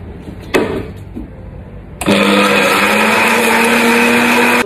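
A faint click and clatter as a soundproof cover is removed, then a loud blender motor starts abruptly and runs at a high steady whine for the rest of the clip.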